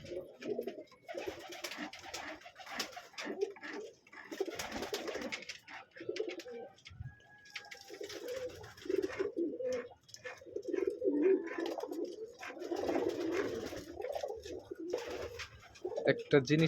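Pigeons coo repeatedly up close, soft throaty warbling calls rolling on and off over a murmur of background voices.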